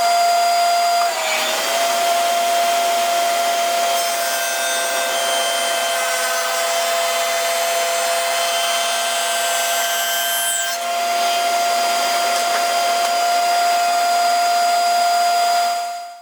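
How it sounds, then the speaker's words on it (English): A table saw fitted with a dado set cuts steadily through a sacrificial wood board, a loud continuous whine with a steady high tone that holds for about fifteen seconds before winding down at the end. "Now turn on your saw and slowly raise the blade until it cuts through the sacrificial board"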